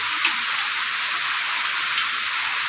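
Steady rain falls on a rainy morning, a continuous even hiss with a few faint drips standing out, and no one talking.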